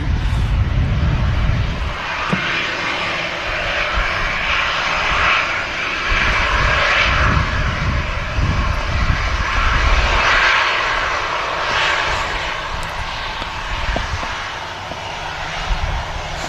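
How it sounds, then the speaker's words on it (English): Ryanair Boeing 737 engines at Manchester Airport as the jet vacates the runway, a continuous close whine and rumble that swells and eases in waves over a steady low roar. "Great views there of the Ryanair 737 vacating ahead of us."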